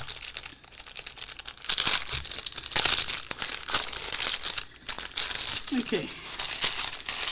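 Plastic packaging of a Temu diamond painting kit being opened, loud close crinkling and rattling in bursts, with a brief spoken word and a short pause in the middle.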